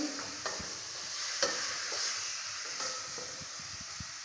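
Tomatoes stirred in a frying pan during beef and rice cooking, a soft steady sizzle with periodic scrapes and taps of the utensil, fairly quiet and close, no voices.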